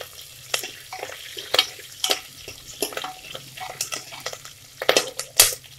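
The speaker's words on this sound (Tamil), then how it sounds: "பச்சை மிளகாய் நல்லா ஃப்ரை ஆன உடனே வெள்ளைப்பூடி சேர்த்துக்கலாம்." Green chilies fry in hot oil with mustard seeds and urad dal, giving a steady sizzle broken by sharp metal clinks and scrapes of a spoon against the pan, several louder stirring strokes near the end.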